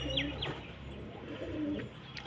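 Pigeons in a pigeon loft giving soft cooing calls over a steady background hum, a few short coos close by, no voices.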